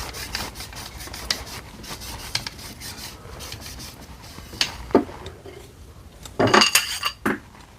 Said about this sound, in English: I'm going to do a little scrubbing this time, go in and out, and I'm spinning it at the same time.